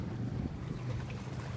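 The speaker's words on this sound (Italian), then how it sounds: "Proviamo il battello." A small boat out on roughly 80 cm waves in about 10 knots of wind gives a faint, steady rushing wash of wind and water, a continuous low noise with no voices.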